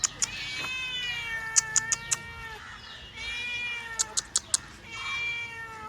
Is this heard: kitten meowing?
yes